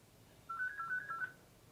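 Phone ringing during a real-time crochet session at home, a short warbling electronic ringtone lasting under a second, fairly clear above quiet room noise with no talking.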